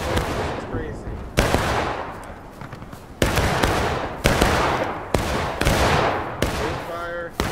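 Musket volleys crash out in the War of Rights video game: about six loud, sharp, massed discharges spaced a second or two apart, each trailing off in a rolling echo.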